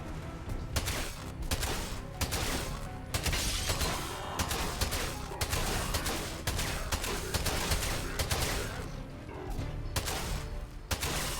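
SMG gunfire in the Atomfall video game: loud, rapid bursts of shots repeating throughout with short gaps between volleys, along with clattering mechanical noises.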